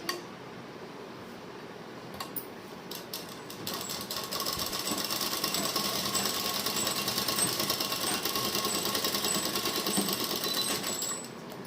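A sewing machine stitches a pocket onto a pair of trousers, its rapid, even needle clatter running continuously and growing slightly louder partway through, with no talking.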